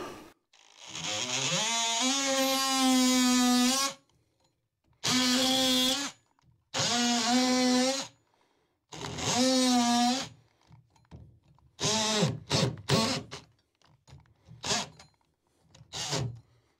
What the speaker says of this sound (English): So here we've got a joist. You can see it just needs a bit of a tidy up. We'll do that with multi-tool.